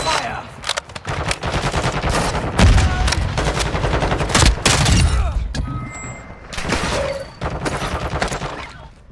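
Heavy video game gunfire rattles almost nonstop, with dense automatic bursts and deep booms layered together, loud and close, easing briefly near the end before resuming.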